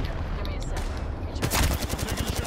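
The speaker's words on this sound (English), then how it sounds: "I'm shooting someone in midair." Video game gunfire: a brief lull, then rapid, dense bursts of automatic shots rattling close and loud through the second half.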